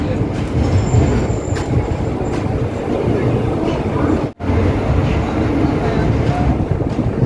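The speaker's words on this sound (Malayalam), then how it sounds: "കൊങ്കൺ റെയിൽവേയുടെ ആദ്യത്തെ വന്ദേ ഭാരതാണ് ഈ കാണുന്നത്. മുംബൈ ഗോവ വന്ദേ ഭാരത്." The Mumbai–Goa Vande Bharat Express runs on the Konkan Railway as a loud, continuous rumble with rushing wind, steady and close, with a sudden brief dropout partway through.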